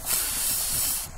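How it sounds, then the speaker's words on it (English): A steady, close hiss of aerosol metallic spray paint on a lantern, one continuous burst lasting about a second before cutting off abruptly. "I'm going to go ahead and start spraying this"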